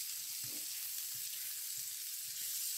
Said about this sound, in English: The chorizo's gone nice and crispy. You might not be able to hear me over the sizzling